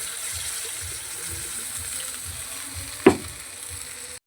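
Water poured into a hot pan of spiced cauliflower curry, a sharp loud splash and hiss that quickly fades, over a soft steady background sizzle and faint rhythmic low thumps.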